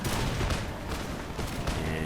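Dense, continuous musket volley fire from British infantry, foot guard line troops, in the video game Napoleon Total War, a rolling crackle of overlapping shots that fills the whole moment at steady loud volume.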